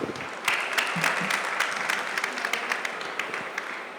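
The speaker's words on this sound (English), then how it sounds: "So if I can get a round of applause for the panelists." An audience applauds panelists at a building and electrical industry panel discussion, a dense, steady wash of clapping from many hands that keeps going throughout.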